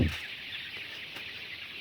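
Sonali chickens cluck softly in a poultry shed, a faint steady murmur of hens after a brief louder knock at the start.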